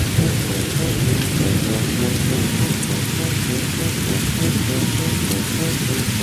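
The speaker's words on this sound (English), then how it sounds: "This storm looks rather frightful" Heavy rain pours down steadily through a storm while low thunder rumbles under it, dense and close throughout.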